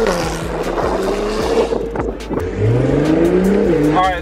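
Acura NSX tearing around a retired go-kart track, engine rising and falling loudly up close as tires squeal through the corners, with brief gear-change pops.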